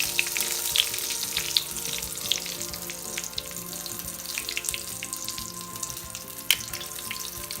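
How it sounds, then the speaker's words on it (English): Homemade lumpia fry in oil at medium heat, giving a steady close sizzle with crackling pops, one sharp louder pop near the end, and no talking. "use medium temperature to fry your lumpias"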